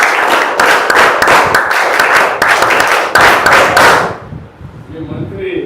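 An audience claps for the minister, a fast, rhythmic burst of many hands slapping together for about four seconds before dying away, with voices in the background afterward.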